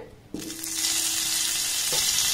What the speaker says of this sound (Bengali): এবার এখানে দিয়ে দেবো 1 চামচের মতো বাটার।